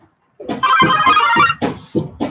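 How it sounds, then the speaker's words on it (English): A phone ringer sounds loudly and close by in a run of repeated electronic ringtone bursts, one long sustained tone followed by shorter rhythmic pulses, with no talk over it. "Thought I turned my phone ringer I off."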